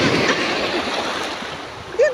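Strong ocean waves at a beach, a continuous broad rushing wash of surf close by, with a brief burst at the end.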